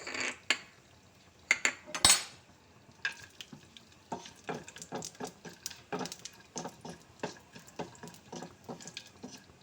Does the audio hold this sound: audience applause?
no